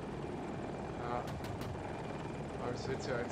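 Helicopter rotor drone from a military video game, a Super Hokum attack helicopter, running steadily throughout under busy gameplay noise and occasional sharp effects.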